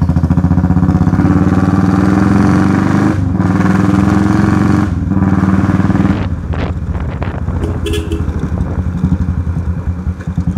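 A motorcycle fitted with an aftermarket exhaust drones steadily at speed while riding, loud and close with wind buffeting the helmet-mounted microphone, the note dipping briefly twice before settling into a rougher rumble.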